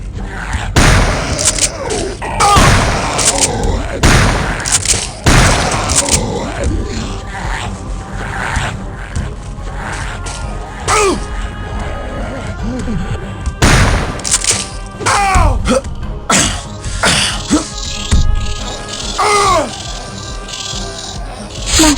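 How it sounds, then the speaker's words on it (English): A shotgun fires in the video game Turok 2: loud booming blasts with rattling and crashing effects, spaced several seconds apart amid a busy, loud game soundscape. "Shotgun."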